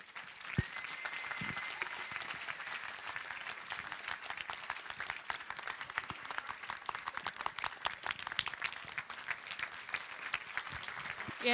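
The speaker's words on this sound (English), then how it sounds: "one big round of applause again for the OC chair" A closing-ceremony audience at an international medical students' meeting in Rwanda breaks into steady, even applause, a dense wash of many hands clapping together that holds at a moderate distance throughout.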